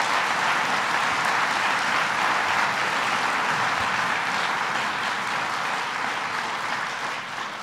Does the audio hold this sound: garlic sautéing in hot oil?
no